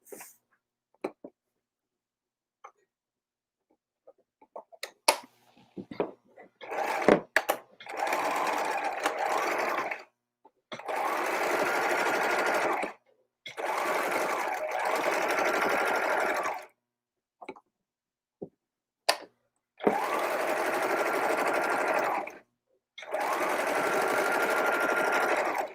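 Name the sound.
sewing machine stitching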